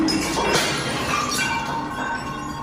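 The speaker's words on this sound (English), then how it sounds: "Then in another room, objects are being smashed." Objects being smashed in another room, a muffled crash with glassy clinks and rattling, steady and distant through the wall, with no talk.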